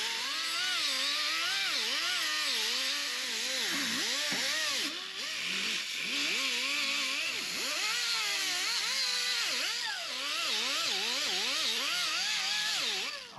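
A power tool strips coating from metal around a floor plate being welded into a Chevelle roll cage, whining steadily with a wavering pitch as the load shifts, dipping briefly near the middle.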